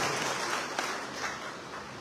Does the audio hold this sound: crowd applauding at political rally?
yes